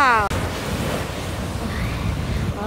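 Ocean waves break and rush continuously while stand-up paddle board surfing, close and loud, with heavy wind buffeting the microphone throughout.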